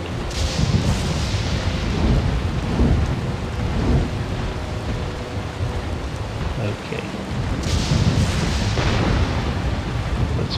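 Barrels exploding in a fantasy video game on pillaged islands, heard as loud, rumbling booms and crackling debris that fill the whole stretch without pause, with a fresh burst near the end.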